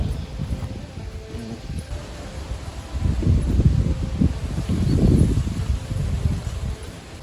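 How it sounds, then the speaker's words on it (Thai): Strong wind gusts over farmland near forest, a steady roar that swells louder midway with rustling, heard alone without talk. "ลมแรงมากครับทุกท่านเลย"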